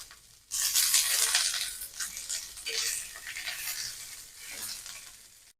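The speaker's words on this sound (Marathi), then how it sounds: "त्याच तव्यावर आपण तेल घालून घेतले आहे आणि असा मोठा साईजचा एक कांदा कट करून घेतलेला आहे, तो घालून घेते" Large chopped onion frying in oil on a tawa for a spicy drumstick curry, a loud steady crackling sizzle with bursts of stirring and scraping, no one speaking.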